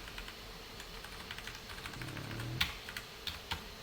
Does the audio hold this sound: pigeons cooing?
no